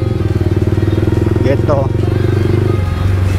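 Fast motorcycles rev hard on a residential street in Perum Karawaci, their engines roaring loud and close throughout, while someone speaks briefly over the noise.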